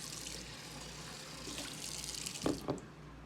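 Beauty blender sponges being washed in a bowl of water with dishwashing liquid: a steady low wash of running, sloshing water, with two brief louder splashes or squeezes near the end.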